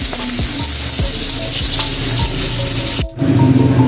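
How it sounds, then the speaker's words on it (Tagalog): Fish sizzling and crackling steadily in hot oil in a pan, close and loud, with repeated low thumps as pieces are moved or stirred and a brief dip near the end. "Habang piniprito pa yung isda"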